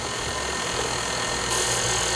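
Electric mixer whirring steadily through apple spice cake batter, a constant motorized drone that shifts slightly higher partway through as the speed increases.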